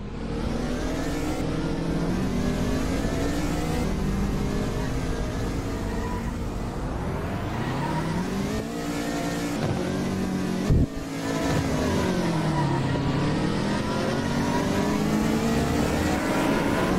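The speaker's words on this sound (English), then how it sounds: "This is already drifting better than the GTR." Continuous engine revving from a racing video game car drifting, pitch rising and falling in long sweeps, loud and steady throughout, with one brief sharp knock near the middle and no talk.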